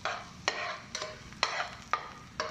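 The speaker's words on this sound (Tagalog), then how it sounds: "Halo natin, tik-tik-tikin para maluto yung ating bawang at lumasa." Garlic sautéing in a pan for tuna carbonara, a spoon tapping and scraping the pan about every half second over a soft sizzle, close and fairly quiet.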